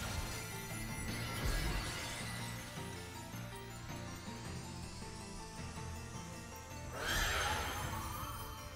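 Horse Pokémon cry in a Pokémon VGC battle, a loud whinnying neigh at the start and again near the end, over layered game music and swooshing battle effects.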